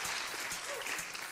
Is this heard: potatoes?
no